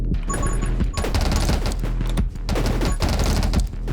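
Dense rapid gunfire from the video game 20 Minutes Till Dawn pours out in loud continuous bursts with brief gaps, crackling and clattering throughout, no voices.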